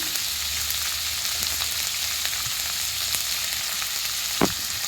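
Cinnamon and cloves fry in hot oil with a steady, close hiss, broken by a few faint clicks of stirring and one sharper knock near the end.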